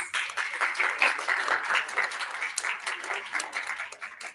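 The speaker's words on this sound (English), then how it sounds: "Another big round of applause." Audience applause at a Planet or Plastic fireside chat panel discussion, with a dense, steady crackle of many hands clapping that fills the whole stretch at an even, moderately loud level.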